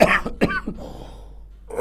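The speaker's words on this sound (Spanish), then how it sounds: "ahí vino la tos." A single person coughs a few sharp times in quick succession at close range, followed by a quiet stretch and a brief breath or rustle at the end.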